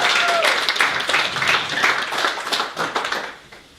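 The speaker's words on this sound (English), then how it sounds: "so just give her a round of applause for that." Steady audience applause at a comedy club, dense and loud, tapering off at the end.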